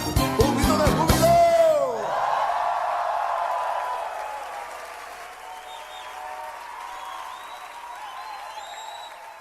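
A church congregation gives a shout of joy, loud cheering and applause bursting out at first, then fading into a sustained crowd murmur with lingering scattered cries.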